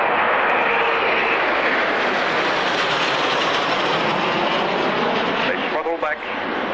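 Aircraft engine roar at the Woodford Airshow in 1999 as a plane flies an aileron roll, a loud sustained broadband rush that holds steady, then shifts pitch and wavers near the end.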